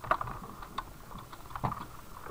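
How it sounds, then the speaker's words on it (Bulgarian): Quiet, irregular keystrokes on a computer keyboard during a Minecraft Sky Wars session, a few soft clicks spread across a short moment with no talking. "Може да чуете клавиатурата ми."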